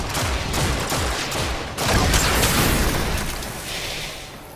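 Attica crossbow firing in the Warframe video game, a rapid volley of sharp shots and impacts over a loud, busy game soundscape, continuous for several seconds.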